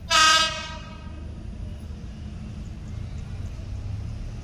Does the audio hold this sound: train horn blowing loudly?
yes